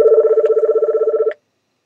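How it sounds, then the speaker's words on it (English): A telephone rings in a radio studio during a live music countdown show, a rapid trilling bell warble lasting just over a second before cutting off to silence, loud and close with no talk. "I will not get that phone right now."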